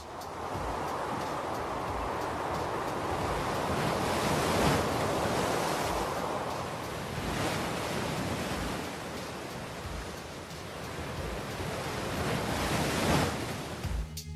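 Heavy winter ocean surf with waves more than six metres high, crashing in a continuous loud roar with surging swells and wind noise, no voices.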